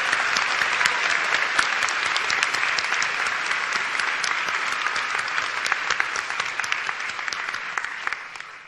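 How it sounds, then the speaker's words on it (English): Steady, full audience applause at a university continuing education class day graduation ceremony, many hands clapping continuously and evenly throughout. "A round of applause."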